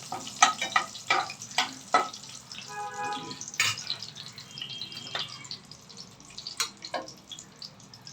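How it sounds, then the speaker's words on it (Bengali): Whole spices such as bay leaf, cinnamon, cardamom and cloves crackle in hot oil, with sharp spits and pops over a low sizzle, close and fairly loud. "দারচিনি, এলাচ, লবঙ্গ, ওটা গরম মশলাটা একটু ভেজে নিলাম।"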